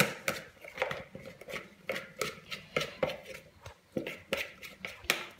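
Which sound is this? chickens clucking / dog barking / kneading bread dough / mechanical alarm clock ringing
kneading bread dough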